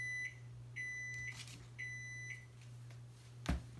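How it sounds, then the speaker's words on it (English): A kitchen oven timer beeps in short, repeated high pulses while a cinnamon raisin wreath bakes, three quiet beep bursts over a steady low hum, ending with a brief clunk. "It has beeped"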